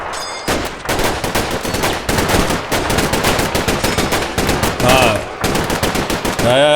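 Video game gunfire in Combat Mission: Battle for Normandy, loud continuous machine-gun bursts and rapid rifle shots packed densely together, with brief whistling sounds near the end.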